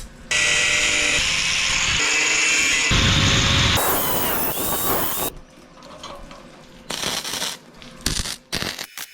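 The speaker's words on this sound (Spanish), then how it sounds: "Pasamos a soldar el posamanos." A MIG welder fuses the handrail onto a homemade steel welding cart, giving loud, sustained buzzing crackle in several long bursts with abrupt cuts between them. Quieter mechanical clatter follows near the end.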